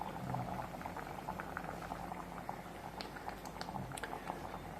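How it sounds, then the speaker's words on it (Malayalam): A coconut, shallot and cumin paste goes into a simmering curry, which bubbles quietly with a faint liquid patter and gentle pouring sounds. "അരപ്പ് ഇതിലോട്ട് ഒഴിക്കുകയാണേ"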